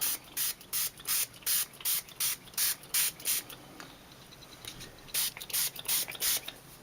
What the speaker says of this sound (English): I'm going to spray my cardstock with water